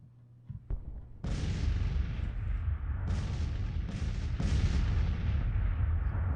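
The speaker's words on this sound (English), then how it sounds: "So our guns are firing away here." Artillery batteries of 6-pounder cannons firing in Grand Tactician: The Civil War, a loud, sustained roar of overlapping booms that swells in several waves after a few scattered early shots, with no voices.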